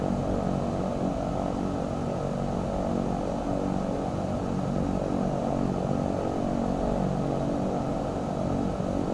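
An EMB-110P1 twin turboprop taxiing in the X-Plane flight simulator gives a steady, droning engine hum with a broad whooshing roar, unchanging and continuous throughout.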